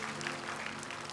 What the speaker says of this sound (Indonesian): Berikan tepuk tangan buat Tuhan sekali lagi.